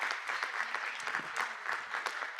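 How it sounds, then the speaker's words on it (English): Applause at a school district board meeting, a modest room of people clapping steadily, heard fairly faint and distant with no talk over it. "Let's give her a round of applause."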